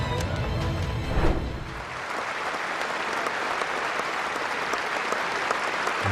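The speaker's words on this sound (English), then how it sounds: "Minute's applause for one of England's finest, Graham Thorpe." A cricket crowd at the England vs India fifth Test, day 2, gives a minute's sustained applause as a tribute. The dense, steady clapping fills the whole stretch, loud and even, with a lower rumble fading early on.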